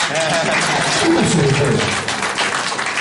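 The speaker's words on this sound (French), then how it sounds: "Applaudissez un peu encore." Audience applause at a QNET training session in a hotel, dense continuous clapping from a crowd filling the room, loud and sustained with a faint voice underneath.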